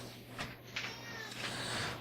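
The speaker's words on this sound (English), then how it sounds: "That's our cat, Manu." A pet cat meows softly in a quiet indoor room, a couple of faint, short calls with a steady low hum underneath and no talking over it.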